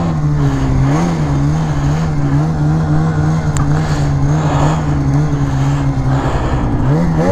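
A Polaris Assault snowmobile engine held at high revs while plowing through snow drifts, a loud, steady droning whine with slight wavering in pitch from start to end.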